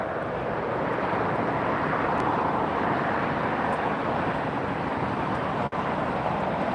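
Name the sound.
Hawaiian Airlines Airbus A330-200 jet arriving at LAX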